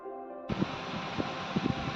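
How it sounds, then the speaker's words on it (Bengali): Rain begins falling outdoors during a storm, a steady broadband wash of noise that starts abruptly and holds, with some faint low thumps beneath it. "সত্যি বৃষ্টি শুরু হয়েছে।"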